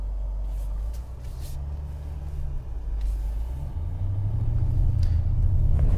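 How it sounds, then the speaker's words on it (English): A 2019 BMW 850i swinging through a U-turn, its engine a low steady rumble that swells gradually as the car pulls away, heard from inside with no talking. "Exceptional U-turn."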